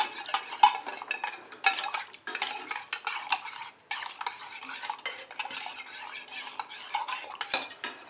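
Sweetened cream milk stirred in a metal kadhai, with a steady run of scraping and clinking spoon strokes against the pan, close and fairly loud with no voices.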